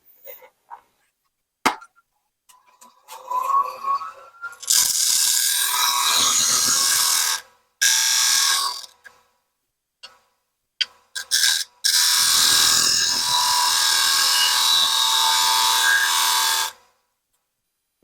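A bowl gouge making an inside cut in a wooden bowl on a wood lathe gives a steady, loud scraping hiss in two long bursts, separated by brief pauses and a few short taps.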